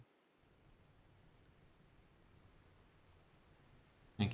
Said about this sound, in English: The rain will put out the fire, it's fine.